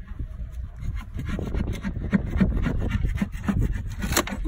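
Close, rough scraping of a teak deck on a sailboat, repeated rasping strokes against wood in an uneven rhythm, with no talking.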